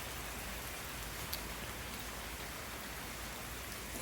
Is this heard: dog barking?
no